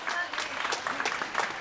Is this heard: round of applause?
yes